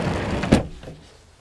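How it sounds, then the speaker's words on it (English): A door slides shut with a short muffled thud, followed by a low rumble fading out, close by, on a Pearl 55 flybridge motor yacht heading below decks. "We'll shut the door"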